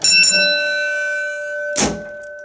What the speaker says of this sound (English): here's the alarm bell